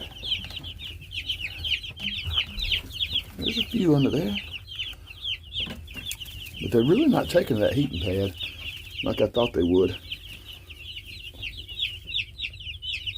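Chickens huddled near a heating pad cluck nearby in soft, repeated bursts, with a constant chirping chorus of chicks behind and someone talking over them.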